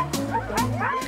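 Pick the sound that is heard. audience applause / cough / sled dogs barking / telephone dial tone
sled dogs barking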